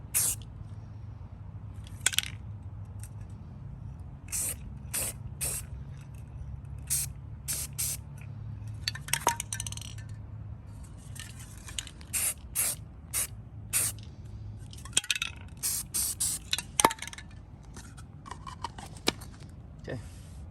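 Short repeated bursts of a spray can laying primer onto the cage of an 88-year-old rusted Robbins and Meyers Type 1204 industrial fan, hissing in irregular blasts over a low background hum.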